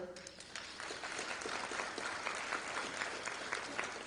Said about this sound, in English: Make an applause for Maya.